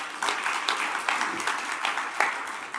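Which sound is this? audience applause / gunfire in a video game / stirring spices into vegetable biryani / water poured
audience applause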